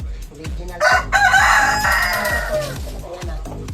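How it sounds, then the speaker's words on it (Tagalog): A rooster crows nearby in a loud, drawn-out call lasting over a second, amid rhythmic low thumping and occasional clucks in a backyard poultry setting. "Ang tawag sa manok na to, Rottweiler."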